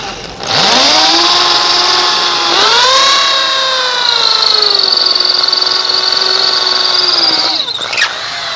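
A power drill whines loudly and continuously into brick, its pitch rising as it bites into the hard material, then winding down at the end.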